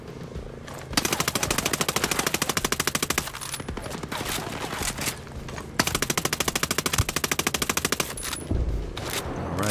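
Video-game SMG gunfire in Ghost Recon Breakpoint: two long, rapid full-auto bursts aimed at a helicopter, loud and close, separated by a short pause and followed by a deeper boom near the end.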